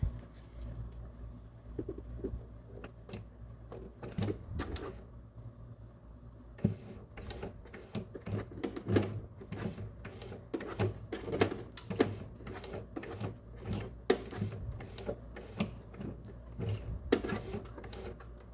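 Sewing a wristlet strap on a sewing machine: quiet, uneven runs of mechanical clatter and ticking with short stops, close but low in level, with scattered clicks of fabric handling.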